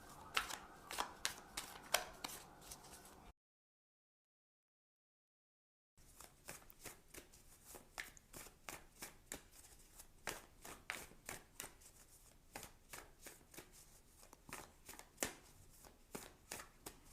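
A deck of oracle cards is shuffled by hand in rapid, crisp riffling bursts. A short silent gap breaks the shuffling before it resumes.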